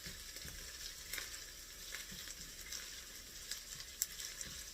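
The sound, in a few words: garlic cloves frying in a pan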